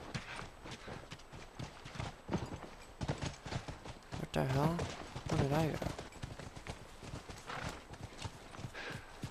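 Steady clip-clop of horse hooves trotting in The Last of Us, with a horse whinnying twice midway, while someone talks over the galloping rhythm.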